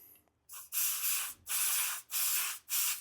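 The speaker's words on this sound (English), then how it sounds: "I'm gonna spray the top of it." Several short bursts of electrical cleaner aerosol spray hiss, close up on a Traxxas Stampede 4X4 BL-2S RC truck, separated by brief gaps.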